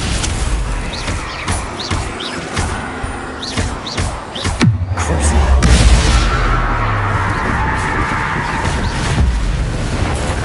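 Bombarda blasting spell in the video game Hogwarts Legacy: scattered clicks and effects, then a sudden loud blast about midway that rolls into a deep, sustained rumbling roar.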